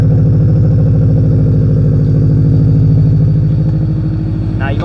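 A highly modified turbocharged car engine on a cold start, idling loud and close with a heavy, steady throbbing rumble and a rough mechanical clatter throughout.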